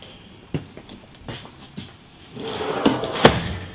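A large, deep drawer beneath the oven of a 2019 Imagine XLS 19RLE travel trailer is handled, giving a few soft thumps and knocks, then a rattling slide and a firmer bump as it moves, close and moderately loud.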